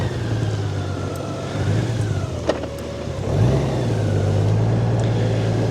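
A motorcycle engine idling and blipping through a slow cone drill, worked with throttle, clutch and brake. The steady low drone dips and rises as the revs change, with a faint clunk midway.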